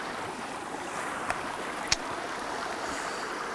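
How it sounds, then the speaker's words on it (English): Moving water in a remote Norwegian mountain creek rushes softly and steadily, a faint continuous wash with a couple of tiny clicks, no voices. "So you can just get water right out of the creek"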